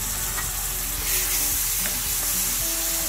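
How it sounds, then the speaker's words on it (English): Spice powders fry in hot oil for a Chettinad-style prawn masala, giving a steady, close sizzling hiss with faint crackles and no voices. "Give it about a few seconds to fry in the oil before adding the softened tomato."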